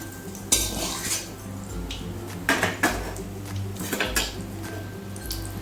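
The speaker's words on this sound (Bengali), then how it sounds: "আমার মাছ ভাজা কমপ্লিট হয়ে গিয়েছে। এখন আমি মাছগুলোকে সব" Fried fish, an Ar catfish curry in the making, being lifted from a pan of hot oil with a metal utensil: repeated clinks and scrapes against the pan over a steady low background hum, with no talking.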